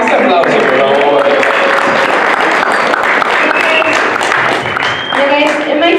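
A big round of applause from a bilingual church congregation, loud and dense throughout, with voices and cheers mixed into the clapping.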